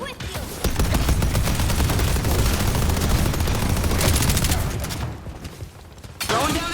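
Rapid turret fire from McGinnis's turrets in the Deadlock shooter, a dense crackling fusillade of shots lasting several seconds, then a brief drop before another burst.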